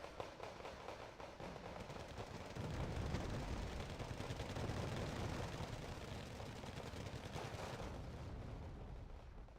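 Distant battlefield gunfire in the real-time strategy video game Wargame Red Dragon, a steady rumbling barrage of shots and explosions that swells midway, fairly faint and without voices.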